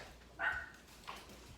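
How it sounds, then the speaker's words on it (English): A dog lets out two faint, short barks or yips about half a second apart, distant and quiet over a low background hum, with no talking. "she's barking. She's barking."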